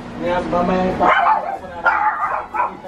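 A dog barks and yips several times up close, sharp and excited, with a person talking over it.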